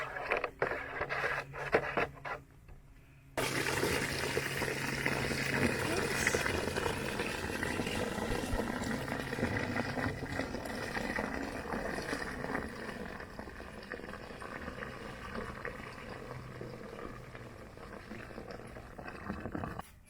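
Warm water mixed with a septic treatment powder and liquid is stirred, a continuous loud bubbling, sloshing churn that starts abruptly after a few seconds of quieter handling noise and carries on steadily.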